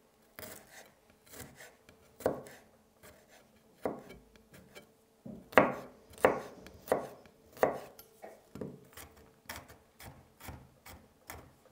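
Knife chopping ingredients into small pieces for chicken teriyaki on a home cutting board, a steady series of sharp close taps in uneven bursts with brief pauses, no talking.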